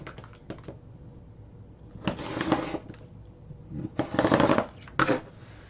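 Scissors cutting fabric for a bowler bag on a table, two bursts of crisp snipping and rustling close by, separated by quiet pauses with light handling noise.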